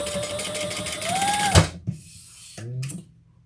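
A sewing machine stitches leather and vinyl bag pieces together in a brief close run with a rising motor whine, a sharp clunk as it stops, then a short second burst.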